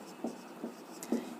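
A pen writes notes during a Class XII physics lecture on cell EMF, giving a few soft, close scratchy strokes spaced irregularly over a quiet background, with no speech.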